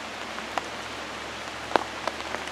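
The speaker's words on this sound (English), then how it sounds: "This is great with all the rain." Rain falls in a forest during a mushroom foray, a steady soft hiss with a few sparse, faint drips landing close by and no voices.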